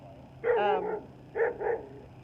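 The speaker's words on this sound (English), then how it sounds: "Oh, I'm getting barked at." A small dog barks in quick yappy bursts, one longer volley followed by two short sharp yips, close by with no talking.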